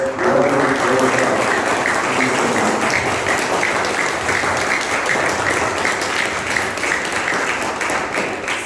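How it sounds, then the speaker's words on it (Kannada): A large crowd claps steadily throughout at a VBS prize-giving as seniors receive a prize, a dense, loud wash of applause that barely fades. "ಭಾರಿ ಜೋರಾಗಿ ಚಪ್ಪಾಳೆ ಹೊಡಿತಾ ಇದ್ದಾರೆ"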